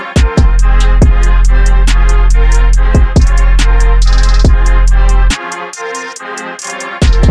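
A hip-hop beat from a track plays loud and full, with repeated heavy kicks, a deep bass, melodic layers and a reversed cymbal swell before the low end drops out near the end.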